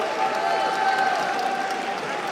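Spectators at a judo bronze medal contest in the European Club Championships react with a brief, loud wash of applause and crowd noise, with voices mixed in.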